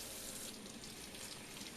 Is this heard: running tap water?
yes